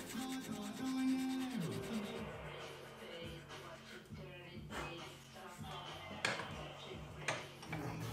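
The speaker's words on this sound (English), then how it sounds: "I refined things with some sandpaper, and I sanded at 120, 180, and then 240 grit" Hand sanding a small wooden ring box with sandpaper, working through 120, 180 and 240 grit; steady close rubbing strokes repeat over a faint musical bed.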